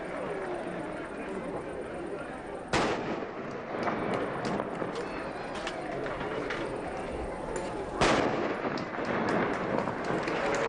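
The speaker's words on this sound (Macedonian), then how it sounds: "И 3 пати се пука, и вино ќе се пие, и песна ќе се пее." Gunshots ring out at a traditional Macedonian village wedding: two sharp, loud bangs about five seconds apart cut through a continuous noisy background with voices.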